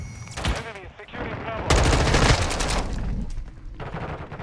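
Rapid gunfire from a Call of Duty Modern Warfare 2 beta match, dense bursts of shots close and loud, with a surge of heavier fire midway and game noise throughout.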